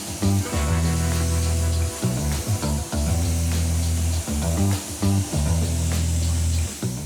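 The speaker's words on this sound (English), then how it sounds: "Let's go ahead and rinse." A pressure-washer spray hisses steadily against a car wheel during a hybrid wash rinse, pausing briefly every second or so as the wand moves, close and loud with a droning pump beneath.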